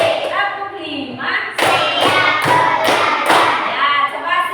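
In an elementary classroom, children follow their teacher through the fifth clap pattern. Four to five crisp, loud claps land in a steady beat, with speech just before and after.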